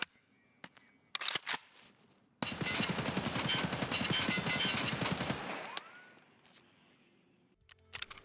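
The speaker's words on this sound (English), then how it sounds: "I do love me the AK-101" A long sustained burst of AK-101 automatic rifle fire in a shooter game rattles loud and steady for about three seconds, framed by a few sharp single clicks and pops before and after.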